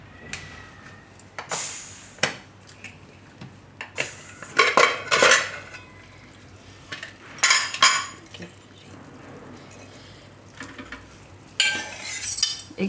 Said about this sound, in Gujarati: સહેજ હલાવી નાખી, આ રીતે મિક્સ કરી લેવાનું બધું.